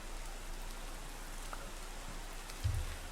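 Steady, even hiss of rainfall in Minecraft's OceanBlock modpack, a continuous wash of drops with a brief low thump near the end, no voices.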